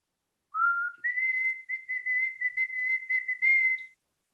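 A person whistles an imitation of a white-throated sparrow's song: a low opening note, then a long run of higher steady notes in a broken, pulsing series, clear and close with no speech.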